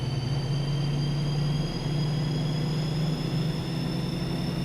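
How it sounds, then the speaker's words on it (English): Steady diesel drone of a BR218 locomotive in a train simulator game on the Birmingham Cross City Line, a continuous low rumble with a faint high whine, running evenly throughout without talk. "I do like the engine sound in a way, though."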